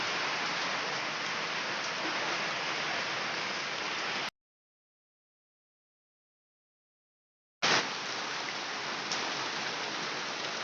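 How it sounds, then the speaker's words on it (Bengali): Heavy rain pours as a dense, steady hiss, cutting out into silence for a few seconds before returning just as loud. "দেখো প্রচণ্ড বৃষ্টি শুরু হয়ে গেছে"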